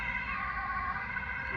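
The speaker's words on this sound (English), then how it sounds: "there's an ambulance coming by" An ambulance siren passes by in a countryside setting, a steady wailing tone with layered harmonics droning continuously, moderately distant and unbroken by talk.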